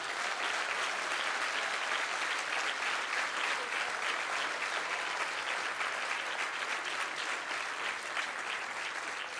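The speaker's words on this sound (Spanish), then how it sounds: "Un aplauso para él." A crowd at a political rally applauds in a dense, continuous wash of clapping that holds steady and fairly distant throughout, with no voices standing out.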